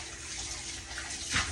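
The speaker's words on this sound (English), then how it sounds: "And then I just wash my hands with dishwashing soap. Easy peasy. Like that real good. That's good hot water." Hot water runs steadily from a sink tap while hands are washed with dish soap, a close, even rushing splash with a brief louder splatter near the end.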